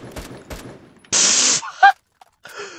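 Gunfire from an AK-12 DMR in the ROBLOX shooter Phantom Forces: a loud, hissing half-second shot burst stands out after two sharp thumps, followed by brief tonal clicks and quieter game noise.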